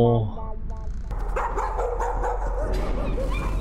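A dog barking, whimpering and yelping while burning in the horror video game Layers of Fear, with the short canine cries over a low droning background and a voice talking.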